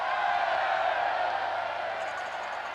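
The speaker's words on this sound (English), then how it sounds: "the noise that you can hear is because the Dutch crowd have decided to amuse themselves with what's become known as the Mexican wave" A Dutch field hockey crowd at a 1987 Champions Trophy match in Amstelveen doing a Mexican wave: a steady, distant wash of crowd roar and cheering that holds evenly and fades slightly toward the end.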